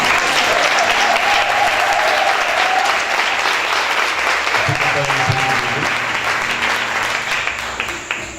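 A church congregation applauds steadily and loudly throughout, a dense wash of clapping with a few voices faintly mixed in, fading slightly toward the end.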